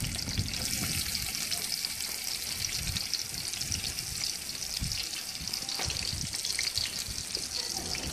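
Chopped onion mixed with crayfish frying in a pan, a dense, continuous sizzle with faint stirring scrapes, close and steady for several seconds.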